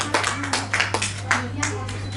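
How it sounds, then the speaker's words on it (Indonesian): Church congregation applauding Sunday school children at a Sunday service, with bursts of clapping under a steady low hum and speech. "Beri tepuk tangan sekali lagi buat anak-anak sekolah minggu DKI Proskuneo."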